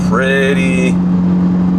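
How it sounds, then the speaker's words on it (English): A Ferrari GT car's exhaust, loud even in comfort mode, blares in a short rising rev close by before dropping into a steady low drone. "it doesn't seem like comfort mode quieted the exhaust down anymore"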